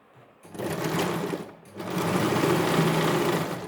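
Sewing machine stitching a cloth bag made from leftover suit fabric runs in two close, loud whirring bursts split by a short pause.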